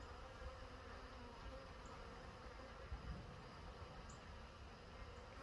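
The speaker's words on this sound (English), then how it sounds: "either these bees are deciding to move out of this box or they're just getting here" Honey bees swarm around a swarm trap box outdoors. Their dense buzzing hum runs steady and continuous, fairly faint, with no voices.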